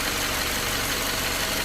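A car engine idles steadily while the vehicle is parked with the engine left running during a road-trip check, giving a constant, close, even rumble with no talk.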